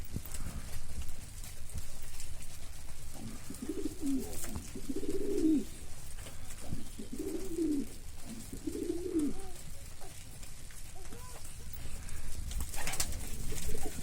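Several soft, low coos in a row from pigeons, steady and fairly close, over a constant background hum.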